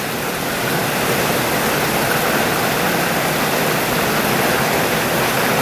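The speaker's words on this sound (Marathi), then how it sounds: "किती ह्या जोराचा पाऊस" Heavy monsoon rain with thunderstorms pours down in a dense, unbroken roar of hiss and splatter, steady and loud from start to finish with no voices.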